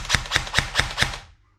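A Tokyo Marui G3A3 airsoft electric gun fires semi-auto, five sharp, close, evenly spaced shots at a quick pace, each a crisp mechanical snap followed by a short ringing tail.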